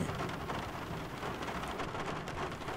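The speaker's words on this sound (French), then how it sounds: "Un après-midi, un orage éclata brusquement." A thunderstorm with heavy, steady rain hisses loudly and continuously throughout, with a low rumble of thunder beneath the downpour and no voices.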